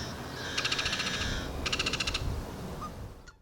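A great-tailed grackle gives two bursts of rapid, rattling clacking calls, each lasting about a second, close and fairly loud over steady outdoor background noise.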